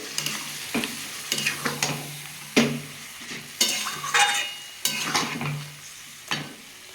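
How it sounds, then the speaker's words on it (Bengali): Chicken masala stir-fried in oil in a pan, loud bursts of sizzling with rhythmic scraping and knocking spatula strokes every second or so, close by and with no talking. "এটা ভালো করে কষতে হবে যতক্ষণ না থেকে তেলটা বেরোয়"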